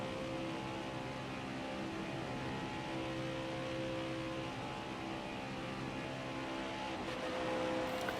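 Race car engines at Daytona in NASCAR Heat 5's Xfinity series: a steady, high-pitched drone holds at full throttle throughout, with harmonic whine and wind noise and no pauses or talk.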